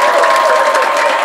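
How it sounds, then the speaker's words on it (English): A studio audience at a showbiz talk show claps loudly for a brief moment, dense and close, with crowd noise mixed in. "Please, a round of applause for my guest."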